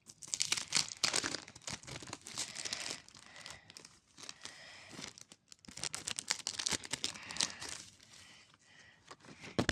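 Plastic sticker packet being opened by hand, with repeated crinkling and tearing bursts up close, pausing briefly midway before more rustling; no talking.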